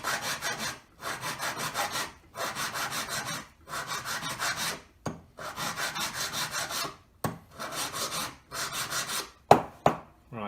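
A metal hand file works the edge of a handmade wedding ring in repeated rasping strokes, close and fairly loud, settling into a steady rhythm before a few short, sharper scrapes at the end.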